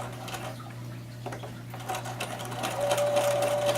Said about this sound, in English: Zigzag the back seam